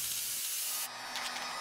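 Spray paint hissing from an aerosol can onto a wooden camping sign inside a makeshift cardboard booth, a steady close, loud hiss that briefly shifts and continues through the short clip without speech.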